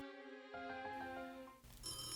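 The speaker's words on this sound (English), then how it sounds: "Just then, the phone rang." A telephone rings as an audiobook sound effect, a steady electronic ringtone with layered tones that swells partway through and continues to the end, loud and alone with no voices.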